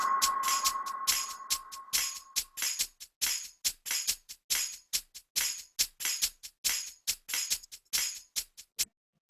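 A shaker pattern with three small percussive hits in a Logic Pro X track, crisp rhythmic shaker strokes ticking evenly and quietly, a tonal hit sustaining at the start before the shaker carries on alone.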